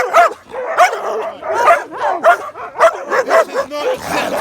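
A dog barks and yips repeatedly in quick bursts during a tense doorstep confrontation at a house, close and fairly loud, with agitated voices of people arguing over it.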